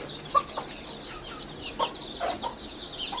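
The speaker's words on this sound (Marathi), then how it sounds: "त्यापैकी पहिली कोंबडी, तिच्या मागे जवळपास 10 पिल्ले आहेत" A desi country hen with about ten chicks, soft intermittent clucks and small peeps at close range against quiet farmyard background, no speech.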